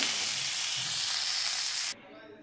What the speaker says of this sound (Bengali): তাহলে চলুন ফুলকপিটাকে ভেজে নিই